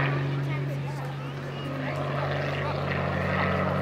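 A Helio Courier STOL plane flies slow-flight demonstration maneuvers, its propeller engine droning steadily at a distance with a low constant hum throughout while someone narrates over it.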